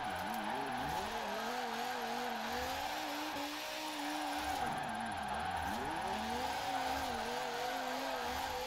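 Forza Horizon Ford Mustang RTR drift car, 1800 hp, sliding through a drift zone with its engine droning and wavering while tires squeal steadily underneath, a continuous moderately loud run with no talking.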